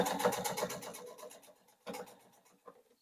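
A sewing machine stitching binding onto a cross-body phone tote runs in a quick rapid burst, slows and stops, then gives a brief second whir and a small click, close and quiet.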